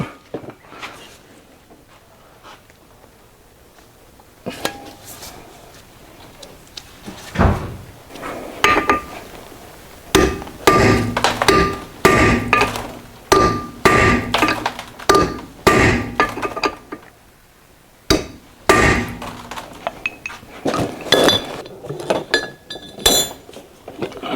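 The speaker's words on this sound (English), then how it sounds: "So now our caliper bracket can come out." Metal parts clank and clink repeatedly while a brake caliper bracket is removed from a Mercedes Sprinter front brake, with bursts of loud knocking and rattling tool contact, close up and without speech.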